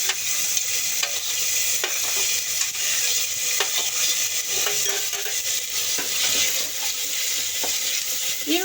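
Tomatoes fry in a pan for a pepper chicken gravy, a steady bright sizzle broken by repeated scrapes and knocks of stirring, close and continuous with no voices.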